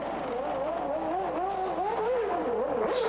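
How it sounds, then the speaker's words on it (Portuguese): Alain Prost's Williams Formula 1 car pulls out of its pit stop at the 1993 Belgian Grand Prix with a wavering, high engine whine that rises and falls, heard steadily at moderate distance. "ele sai beliscando, sai fritando o pneu, Prost"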